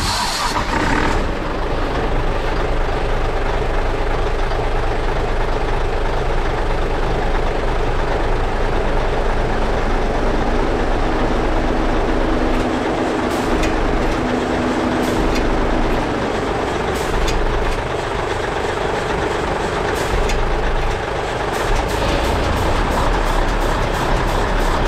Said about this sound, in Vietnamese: Mình sẽ tiến hành mình nổ máy ha.